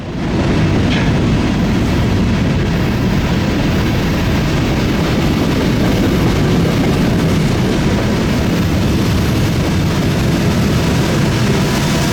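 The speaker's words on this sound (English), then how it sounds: "After the first train had passed" A freight train rolls past on a busy mountain railroad line, a heavy continuous low rumble and roar that stays loud and steady throughout.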